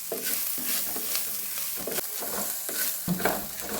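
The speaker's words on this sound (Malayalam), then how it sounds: "നല്ലതായിട്ട് ഇളക്കി കൊടുക്കുക." Sprouted grains sundal with garam masala being stirred in a pan, a spoon scraping in repeated strokes over a soft continuous sizzle, close and alone.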